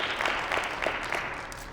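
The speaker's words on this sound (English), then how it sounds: "Yeah, it's worth applauding." A crowd at a memorial celebration of life claps steadily in a dense, even wash of applause, moderately loud and continuous throughout.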